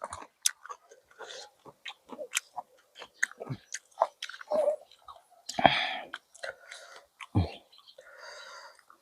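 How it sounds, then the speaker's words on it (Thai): Crunchy bites and wet chewing of chilies dipped in shrimp paste, close up, with short clicks and mouth noises spread across the clip and quiet whispery voice sounds between bites. "กินพริกกับกะปิ"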